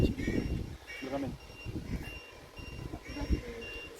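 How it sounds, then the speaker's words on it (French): Battery-warning beeps from a radio-controlled model boat sound in short repeated bursts at a small harbour, mixed with nearby voices and outdoor background noise. "Ça c'est les indicateurs de batterie."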